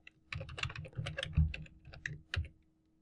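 Rapid bursts of keystrokes on a computer keyboard while HTML code is typed, close and clear, with brief pauses between runs of clicks and a couple of heavier key thumps.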